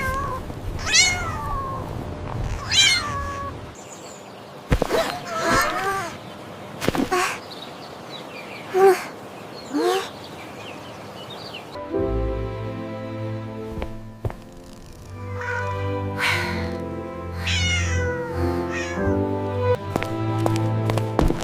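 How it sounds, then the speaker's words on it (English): Stray cats at a shelter meow repeatedly, several rising, plaintive calls close by, scattered with short gaps, later joined by soft background music. "these stray cats now have a home"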